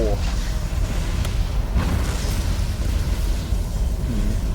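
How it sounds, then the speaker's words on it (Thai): Explosions boom and rumble in Resident Evil 3 Remake, a dense low roar of blasts and debris that fills the whole stretch, with someone talking over the noise. "ระเบิดระเบิดไปหมด"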